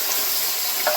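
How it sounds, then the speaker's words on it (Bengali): Potato pieces fry in hot oil in a pan for a squash and potato vegetable curry, a loud, close, steady sizzle with light stirring. "আলুটাও ভেজে নেব।"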